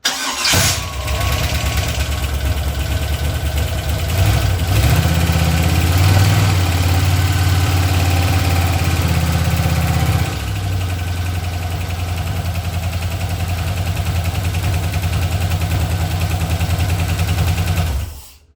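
Carbureted LS V8 swapped into a 1971 Chevrolet El Camino, fed by a temporary gravity fuel supply, cranks briefly, fires and settles into a loud, close, steady idle that drops slightly midway and runs for about fifteen seconds before cutting off.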